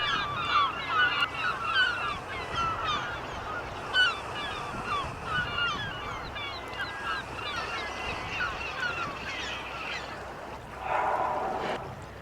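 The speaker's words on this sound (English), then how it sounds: "there's a gull swirl so close I can see the gulls grabbing the herring" Gulls swarm over herring on the Salish Sea, their calls a dense, overlapping chorus of nearby squawks and cries, with a louder flurry near the end.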